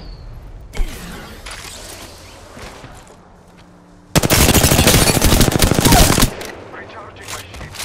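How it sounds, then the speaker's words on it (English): Bombots firing in a video game: after a single shot, a sustained, loud burst of rapid automatic gunfire lasts about two seconds, with quieter mechanical clatter and movement before and after. "Bombots are shooting at me!"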